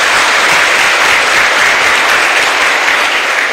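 An audience at a talk bursts into dense applause. Many hands clap close by, loud and steady, forming an unbroken wash of sound from start to finish.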